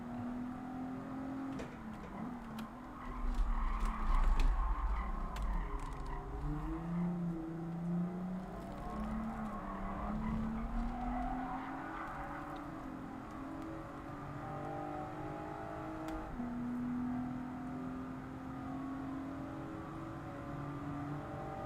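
A race car runs a lap in Gran Turismo 7, its engine note rising and falling in long sweeps as it shifts and revs through corners, steady and fairly close throughout.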